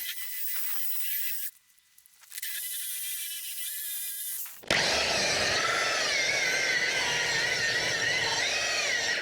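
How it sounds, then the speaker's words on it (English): A machine polisher with a coarse white pad buffs compound into the paint of a 1986 Chevrolet Monte Carlo SS during colour sanding. It gives a steady whirring drone, cuts out briefly, then returns louder and harsher. "Polishing is going well."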